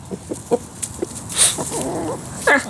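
Chickens in a backyard chicken yard cluck in quick, irregular clucks and squawks, close and clear, with a louder call near the end and no talking.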